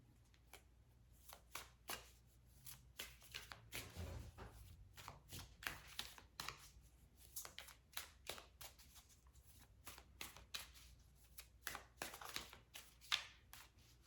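Tarot cards being shuffled and drawn at a quiet, close distance, with repeated soft riffling flicks and card snaps in irregular bursts over about fourteen seconds.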